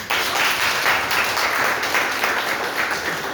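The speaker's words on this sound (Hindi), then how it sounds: "तो एक बार हम आपको सब ठोको ताली इनके लिए" A group claps steadily for a student after an answer in a political theory class, dense, even applause filling the whole stretch without speech.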